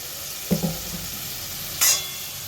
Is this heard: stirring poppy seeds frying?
yes